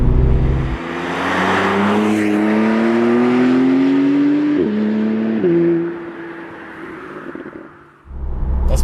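A 2016 Porsche 911 Carrera 991.2 with its turbocharged engine pulls through the gears on country roads, a loud, close rising engine note with gear changes and a lift-off before accelerating again.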